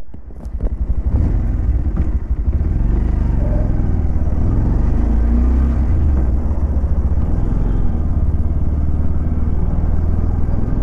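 Exhaust of a 2025 Bajaj Pulsar 150 twin-disc motorcycle while riding: a loud, close, steady low rumble after a brief throttle blip at the start, with engine pulses and light clatter throughout.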